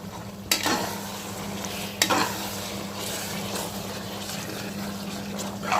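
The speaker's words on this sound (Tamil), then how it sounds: "நல்லா அந்த பீஃபும் வதங்கணும்" Beef chunks sautéing in a pan for beef biryani, a constant crackling sizzle with a couple of sharp scraping stirs of the spoon against the pot, over a low steady kitchen hum.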